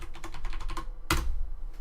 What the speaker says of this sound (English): so type in whatever you want.